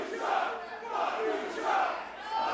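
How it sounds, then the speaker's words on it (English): A wrestling crowd at Southport Hall chants in loud, rolling unison, the voices swelling and falling in a steady rhythm, close and filling the room. "It's a very unflattering chant coming in from the crowd here at Southport Hall"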